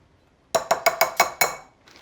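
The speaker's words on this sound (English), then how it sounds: "I'm just whisking these together to kind of get rid of the lumps." A whisk clinks rhythmically against the side of a bowl while flour and brown sugar for a brown butter apple cake are mixed, six quick, bright metallic taps up close followed by a faint scrape.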